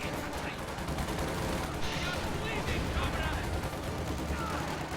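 A WWII strategy video game battle, with squads trading gunfire as a flamethrower engages, gives a dense, continuous din of crackling shots and rushing blasts throughout, loud and busy.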